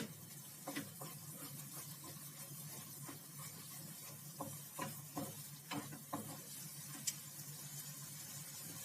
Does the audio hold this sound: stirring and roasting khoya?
yes